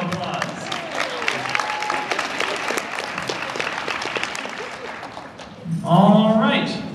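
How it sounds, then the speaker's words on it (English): Audience applause at a book cart drill team competition, a sustained, moderately loud patter of many hands clapping, followed at the end by a voice speaking. "Let's give Dimco a round of applause."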